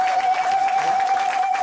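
Brief burst of church congregation applause and acclaim during a sermon, dense clapping over a steady tone with crowd noise.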